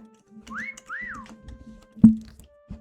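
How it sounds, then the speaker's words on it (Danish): A person whistles two short rising-and-falling notes, clear and close, followed by a sharp knock and faint background sounds in an otherwise quiet room. "Fløjt."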